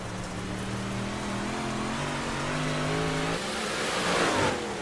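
Dirt-track race car engine in the DIRTcar eSports Digital Dash racing game, a continuous loud droning roar whose pitch climbs and shifts through the gears, with rising revs and a brief swell near the end.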